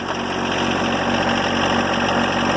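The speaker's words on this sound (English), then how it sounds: "Crank her up. Spin the RPM just a little bit." A John Deere 1025R compact tractor's engine runs steadily at slightly raised RPM, a loud, close, continuous drone with no talk over it.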